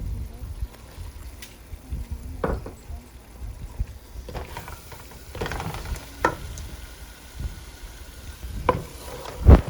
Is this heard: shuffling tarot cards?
no